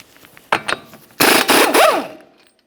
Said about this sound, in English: Remove your 32mm axle nut.